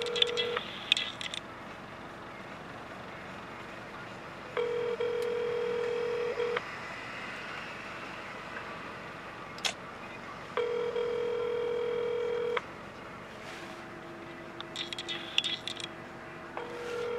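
A telephone call being placed: bursts of dialing tones, then long steady ringback tones repeating at intervals, moderately faint, with a few brief clicks and sounds in between.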